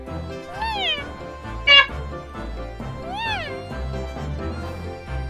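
Short, bright cat meows from The Great Ace Attorney Chronicles, two distinct rising-falling calls with a sharp chime-like effect between them over soft game music.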